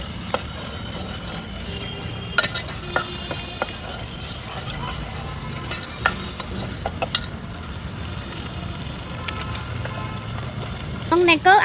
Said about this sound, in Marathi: तेल सुटतपर्यंत मसाला परतून घ्यावा.